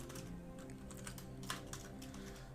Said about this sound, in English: So if you hear me typing, that's me coming into the game.